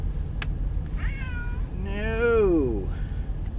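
A cat meows in a single drawn-out, rising-then-falling call at close range inside a truck cab, with a faint earlier mew and a steady low engine-like hum underneath.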